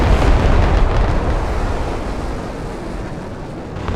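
A loud, rumbling rocket explosion from the video game Broken Arrow rolls out as a broad, sustained boom that slowly fades over several seconds without any talk.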